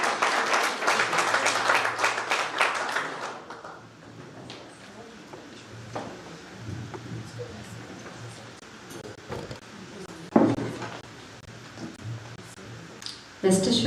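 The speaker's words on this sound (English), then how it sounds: "A round of applause for this hard-working woman." Dense audience applause at the launch of a high school adolescent counselling clinic, greeting a woman called to the stage; loud for about three seconds, then fading into quieter room noise with occasional knocks and a voice speaking.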